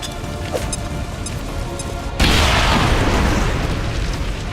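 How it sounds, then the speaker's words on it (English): Tanks exploding in the video game XCOM 2: a sudden loud, booming blast that bursts in partway through and leaves a sustained roaring, crackling wash of noise over the steady game background. "You weren't kidding when you said those tanks could explode."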